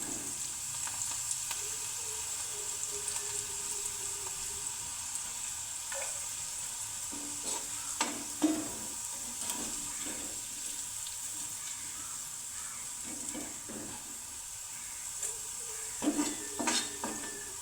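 Okra sizzling as it fries in a pan, a constant gentle crackle broken by several sharper stirring and scooping clatters, with no talking.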